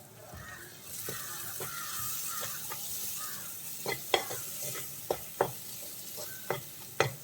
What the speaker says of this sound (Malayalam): ഇനി എല്ലാം കൂടി ഒന്ന് മിക്സ് ചെയ്തെടുക്കാം